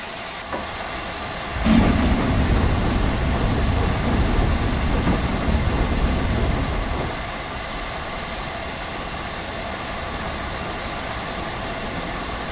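A train in the Train Sim World game, on a route to Brighton, rumbles with a hissing, steam-like rush that starts after a brief quiet, holds steady for several seconds, then drops back to a faint background hum.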